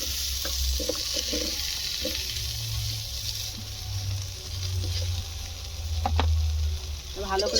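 Potatoes fry with a little turmeric in a pan, giving a steady close sizzle broken by spoon clinks and stirring scrapes, with a low hum underneath.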